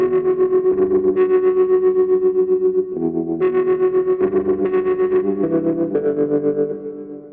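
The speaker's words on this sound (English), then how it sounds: "Just a little bit of tremolo because I have the volume knobs on the guitar turned down" An electric guitar with both pickups on and its volume knobs turned down plays through a Kemper Profiler with a gentle tremolo, sustained chords pulsing in a steady wobble, loud and alone.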